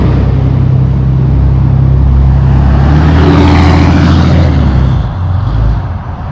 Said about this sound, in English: He's gonna do a pass by, so we're gonna see when he comes by what it sounds like.